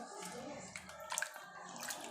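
Water pours and splashes steadily over rice being washed for a Somali biryani, a close, continuous running-water sound with brief louder sloshes near the middle.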